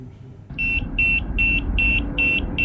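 Six evenly spaced electronic beeps from a body temperature monitor's fever alarm, high and piercing, repeat in a steady rhythm over a low background hum.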